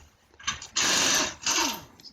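A power tool spins off car wheel nuts with a 21mm socket during a front and rear brake pad and rotor job, two loud sustained whirring bursts under a second each, with a brief lead-in buzz.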